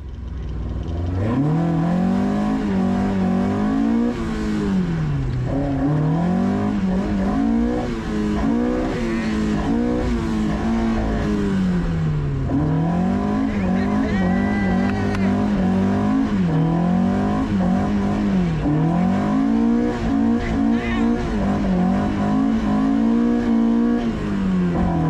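A car engine revs repeatedly and loudly at a car festival featuring a Ferrari 275 GTB and an Opel, rising and falling in long waves over about twenty-five seconds.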